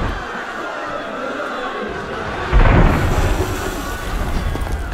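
A cannon blast booms in Assassin's Creed Unity, a single deep, loud thud arriving midway through and leaving a rumbling tail over a constant murmur of background ambience.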